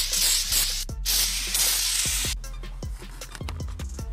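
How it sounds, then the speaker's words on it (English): Carb cleaner sprayed onto Lexus IS300 engine headers gives a loud, close, steady aerosol hiss in long bursts, broken by a few sharp metallic clicks and knocks. "we're gonna use some carb cleaner and then spray all that gum out of there and oil residue."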